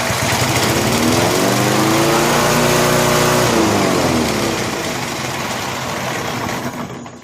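A vintage Snapper walk-behind mower's small engine roars loudly and close, revving up in a rising and falling sweep before settling to a steady, slightly lower drone.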